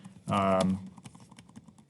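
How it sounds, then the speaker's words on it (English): Brief computer keyboard typing: a short cluster of clicks follows a burst of voice, then scattered light taps, quiet and close. "So I can just start, typing"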